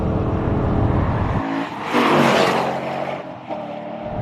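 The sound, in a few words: car engine revving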